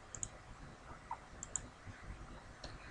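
A few faint, sharp computer mouse clicks scattered across a short moment of quiet scheduling software use, with no talk.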